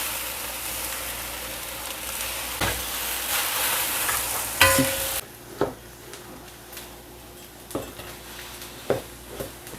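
Cabbage tossed into a pan of spicy nasi goreng, first a loud frying sizzle, then quieter stirring with scattered clanks of utensils against the pan, close up with no speech.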